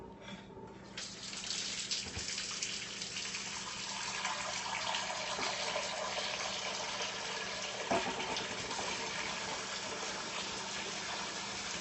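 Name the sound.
crockpot being filled with water to cover a can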